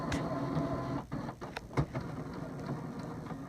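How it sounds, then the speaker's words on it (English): A Kodak ESP 3250 inkjet printer recalibrates after a carriage jam repair, its motor whirring steadily with a run of clicks and mechanical knocks from the moving printhead carriage, close and fairly quiet. "what it's going to have to do is recalibrate everything and print off a few test pages"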